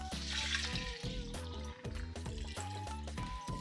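Water pouring steadily into rice and chicken in a pressure cooker for pulao, a continuous splashing fill over background music.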